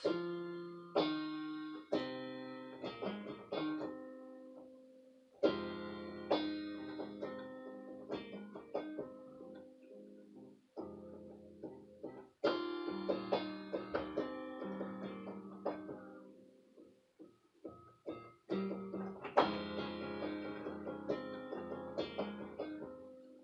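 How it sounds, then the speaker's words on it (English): Plucked, piano-like instrumental music plays on its own, with notes struck in phrases and short pauses between them, moderately quiet. "The medley will include the background music for Scorpio"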